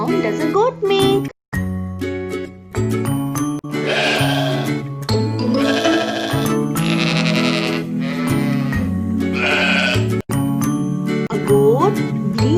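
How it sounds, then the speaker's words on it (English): A goat bleats repeatedly and loudly up close in a series of wavering, nasal cries with brief gaps between them, accompanied by light jingling bells. "A goat bleats."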